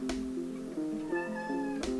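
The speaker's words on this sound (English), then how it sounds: "And here is a cat, which is not mine." A cat meows several times in a row, with clear tonal, slightly wavering calls up close, over a quiet background with no talking.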